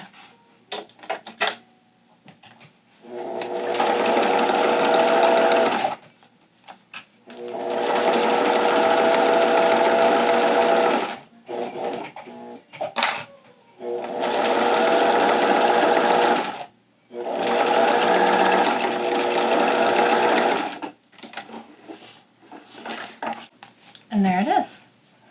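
Sewing machine stitching a two-layer vinyl pouch, running in four long steady bursts separated by short pauses with faint handling noises between, close and loud.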